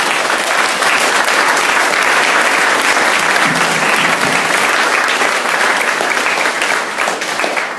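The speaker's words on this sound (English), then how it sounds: "Let's get a round of applause for these guys." Sustained applause from a large crowd at a real-estate investing seminar, steady and loud throughout, with dense overlapping clapping that tapers slightly at the end.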